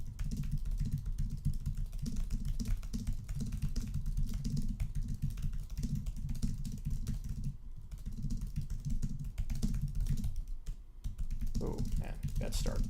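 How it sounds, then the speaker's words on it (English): Rapid, continuous keystrokes on a computer keyboard during a typing test rattle on steadily and close by for the whole stretch, with only brief pauses. "We'll do one more typing test because you guys want one."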